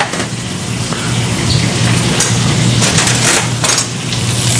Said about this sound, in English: We're going to add the spinach to the pan.